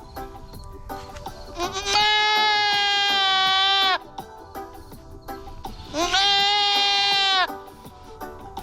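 Goat of about 100 pounds on a farm bleats twice in long, loud, wavering calls, each lasting around two seconds, with quiet gaps between.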